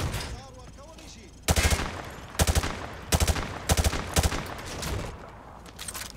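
Gunfire from Call of Duty weapons shooting through light cover, loud rapid bursts in several tight clusters separated by short pauses, with a quieter voice heard at the start.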